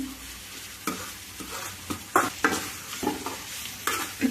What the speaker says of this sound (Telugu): ఉల్లిపాయ బాగా మగ్గాలండి మగ్గే వరకు తిప్పుకుంటూ ఉండాలి